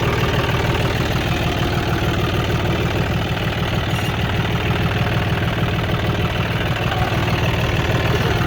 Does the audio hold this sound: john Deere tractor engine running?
yes